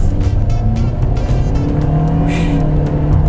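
A Perodua Traz SUV in Sport mode accelerates hard, its engine note rising loud and close with a steady drone and a brief tire squeal near the end.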